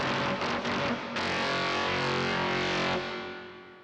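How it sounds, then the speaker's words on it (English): A distorted electric guitar chord rings out thick and buzzing through an effects unit, re-struck once and sustained for a couple of seconds before fading, loud and alone. "Oh, this distortion, it sounds good with one note"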